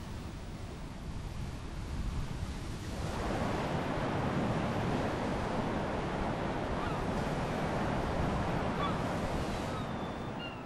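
Sea surf washing against the cliffs below the weathered Tintagel castle ruins, a faint, continuous rushing wash that swells after a few seconds and stays steady, with some wind.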